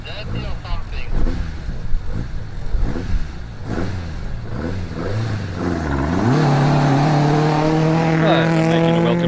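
A Ford Escort Mark II 2-litre rally car races at a national rally, its engine loud and close, revving hard through gear changes and then holding a sustained high-pitched howl, with a commentator talking over it.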